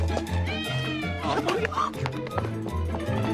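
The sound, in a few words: cat meowing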